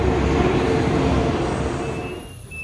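An ICE high-speed train arrives at a station with a broad, steady rumble that gradually eases and fades over a few seconds. No one speaks.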